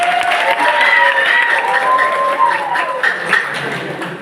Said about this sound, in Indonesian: Tepuk tangan dulu untuk teman kamu ini